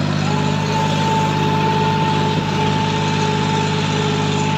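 A 41 hp tractor engine drones loud and steady while pulling a 16-disc harrow in third low gear, a continuous close rumble with a constant pitch and no audible drop in revs.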